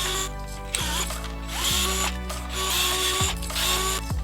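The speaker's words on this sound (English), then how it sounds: "The first thing we need to do is remove all 5 screws on the side of the toy." A power screwdriver whirs and ratchets as it backs screws out of the plastic side of a Zoom-o Disc Launcher toy, several bursts of motor whine with descending pitch sweeps and brief pauses between screws.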